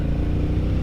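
A motorcycle with a DCT semi-automatic gearbox downshifts a couple of gears, its engine a close, loud, steady low rumble with a throbbing pulse through the short burst.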